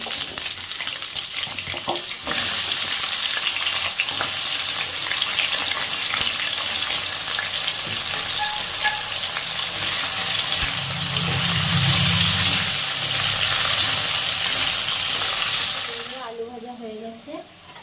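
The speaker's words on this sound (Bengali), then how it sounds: "এবার আমি আলু কটা ভেজে নেবো" Potato pieces frying in hot oil in a home kitchen, a loud, dense sizzle that holds steady for most of the stretch before cutting off near the end, with no speech.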